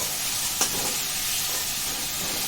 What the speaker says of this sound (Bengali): আদা রসুনের পেস্টটা দিয়ে এবার একটু নাড়াবো